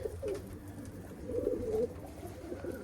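Pigeons coo softly and steadily, low throaty calls rising and falling, with no talking.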